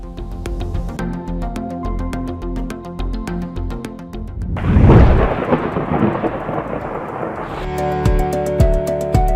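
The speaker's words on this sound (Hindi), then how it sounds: "कहीं हल्की तो कहीं तेज बारिश से मौसम दिल फरेब हो गया।" Heavy rain with a loud, rumbling thunderclap in the middle, set over steady background music during monsoon weather in Lahore.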